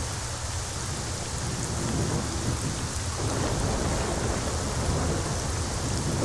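Steady heavy rain with a rolling rumble of thunder in the video game S.T.A.L.K.E.R.: Shadow of Chernobyl, a continuous hiss of downpour that swells slightly midway, with no talk.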